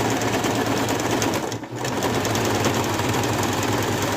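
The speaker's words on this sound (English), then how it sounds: "I'm just going to stop, flip it over, and do the stitch again" A sewing machine runs steadily while stitching a minimal Pikachu plush, a loud continuous mechanical whir with a brief dip near the middle before it picks up again.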